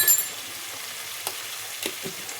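Turmeric being stirred into a frying pan for an Indian chicken fry, a soft steady sizzle with a few brief scraping strokes of the spoon, close and fairly quiet.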